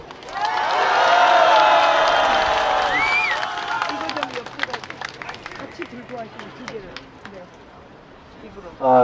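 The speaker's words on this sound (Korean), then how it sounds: "우리 윤용 교수님을 큰 함성과 함께 모시겠습니다" A crowd at a political rally cheers and shouts loudly to welcome a speaker, then breaks into scattered, rhythmic clapping that thins out before a final burst of noise.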